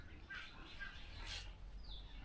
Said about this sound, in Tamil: பறவைகளோட சத்தம் எல்லாமே நல்லா இருக்குங்க.